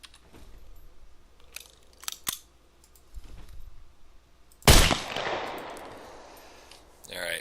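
One sharp, loud gunshot in a zombie video game rings out with a long decaying tail, following quieter clicks and handling noises.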